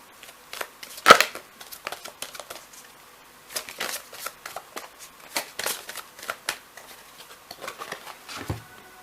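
Tarot cards are shuffled by hand in a quiet room, giving a run of soft papery riffles and light slaps in an uneven rhythm, with one louder burst near the start and a dull knock toward the end.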